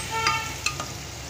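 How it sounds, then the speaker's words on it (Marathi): Peas sauté in a pan for masale bhat, a short burst of steady sizzling with a couple of quick stirring scrapes, close and fairly loud, with no voices. "मटार घालून 1-2 मिनिटं चांगलं परतून घ्यायचं"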